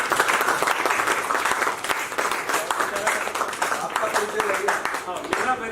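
Theatre audience applauding loudly after a Hindi stage play, dense steady clapping filling the whole stretch with a crowd murmur beneath.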